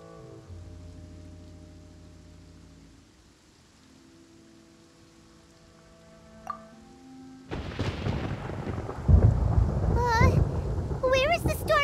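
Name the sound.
thunder in Genshin Impact video game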